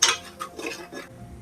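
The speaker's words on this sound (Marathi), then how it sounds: "मिरचीची पेस्ट चांगली भाजून घ्या" Chili paste roasting in a pan while a spoon stirs it, giving a few close metallic scrapes and clinks against the pan over a faint sizzle.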